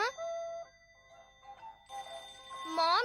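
A telephone ringing in a Doraemon cartoon episode, a melodic electronic ringtone in bright repeating tones with a short pause mid-way, close and clear with no talk.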